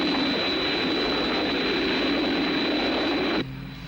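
A Thunderbirds aircraft flying in to land gives a loud, steady engine roar with a high whine that holds for over three seconds, then cuts abruptly to a quieter low hum.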